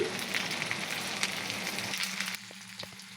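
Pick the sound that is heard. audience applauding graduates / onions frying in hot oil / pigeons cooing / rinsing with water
onions frying in hot oil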